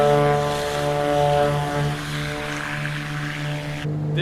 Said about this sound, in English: The sounds are amazing on this aircraft.